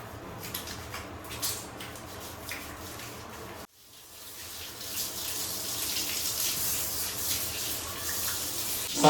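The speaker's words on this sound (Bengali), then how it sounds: "আগে হ্যান্ড ওয়াশ দিয়ে হাতটা ভালো করে ধুয়ে নিই।" Running tap water splashing in a bathroom sink while hands are washed with hand wash, a steady gush briefly cut off and then resuming louder.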